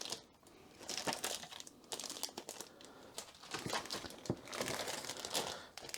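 Small plastic bags holding Dragon 32 cassette games crinkle and rustle up close as they are handled, in irregular bursts of sharp crackles.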